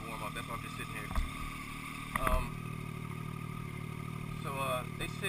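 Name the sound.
motorcycle engine idling while warming up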